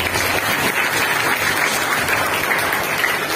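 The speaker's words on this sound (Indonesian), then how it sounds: "Luar biasa, aplaus buat beliau." Sustained applause from an audience at a school language-village launch event held at an Islamic boarding school, steady and dense throughout with no talk over it.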